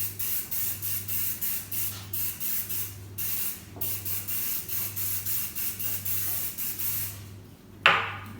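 Repeated short bursts of cooking oil spray hissing onto a baking tray for banana bread, close and fairly loud, in a steady rhythm of about eight puffs, with a brief sharper clatter near the end.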